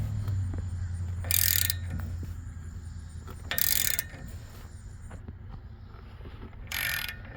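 A lug nut being tightened to pull a wheel stud into the hub of a 2017 Ram 2500, heard as three short bursts of ratchet clicking over a low steady hum, close and fairly loud.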